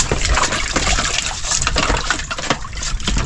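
Water sloshing and gushing steadily, a loud, close, continuous liquid rush with small splashes throughout, and no voices over it.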